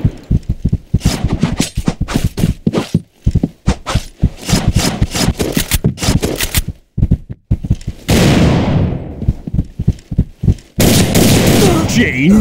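Rapid Desert Eagle pistol shots in a video game, sharp repeated bursts in quick succession, then a couple of longer, noisier blasts near the end; a voice talks in between.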